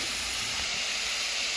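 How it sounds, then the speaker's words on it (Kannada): Chopped tomatoes fry in a pan for a mushroom masala, giving a steady broadband sizzle and hiss, close and continuous, with no talking. "ಟೊಮೆಟೊ ಹಚ್ಚಿಟ್ಕೊಂಡು ಹಾಕ್ತಾಯಿದ್ದೀನಿ. ಚೆನ್ನಾಗಿ ಉರಿಬೇಕಲ್ವ?"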